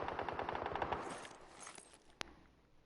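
Rapid automatic gunfire in PUBG, a dense burst of shots for about a second that fades into a trailing echo, then one sharp click near the end, no talking.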